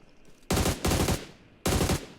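Gunfire in the mobile battle royale game PUBG Mobile: three loud bursts of rapid automatic fire, the first two back to back, then a short pause before the third, with no talking.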